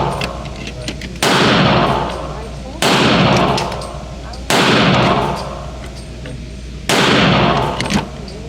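Four loud, close Glock 32 pistol shots at an outdoor range, each a sharp crack with a ringing decay, spaced about one and a half to two seconds apart, with no talking.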